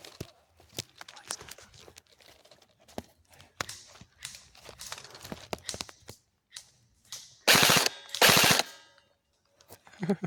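Rapid video game gunfire crackles in short bursts and single shots throughout, with two loud sustained automatic volleys near the end, close and sharp over a quiet background.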